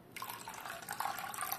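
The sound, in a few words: water poured into thick yogurt for dahi vada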